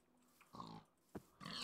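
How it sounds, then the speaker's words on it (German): Pig grunts in the Minecraft video game, two or three short snorting grunts spaced across the moment, fairly quiet with background game ambience and no talking. "Ich weiß auch noch, dass hier noch Schweinchen sind."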